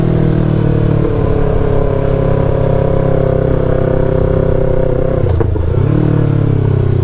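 Yamaha R3 motorcycle with a loud full-system aftermarket exhaust holding a steady close, loud drone, then a quick downshift blip and rev change near the end.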